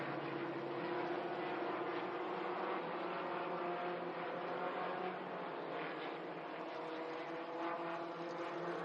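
Race cars of the Allison Legacy Series lapping Florence Motor Speedway, a steady droning engine roar heard from a distance, fairly faint and constant with a slight swell near the end.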